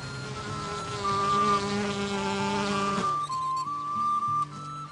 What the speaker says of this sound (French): Les abeilles butinent les fleurs.